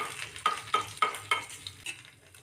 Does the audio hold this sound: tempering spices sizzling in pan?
yes